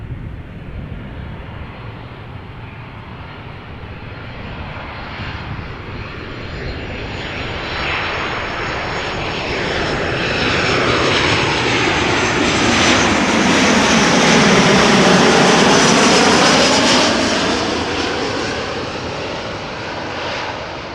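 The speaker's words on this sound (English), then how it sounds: "Embraer 175 arriving from Oslo. Looks like it is lined up on the glide slope for runway 18 center." An Embraer 175 airliner on approach to runway 18 center at Amsterdam Schiphol, its engine roar swelling steadily from a distant rumble to a loud, broad whine overhead before starting to ease off, no talking.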